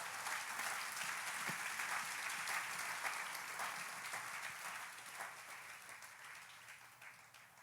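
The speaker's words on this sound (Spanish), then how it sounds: "Denle una ofrenda de palmas al Señor." Sustained applause from a church congregation during a sermon, a dense wash of many hands clapping that holds steady and then slowly thins and fades toward the end.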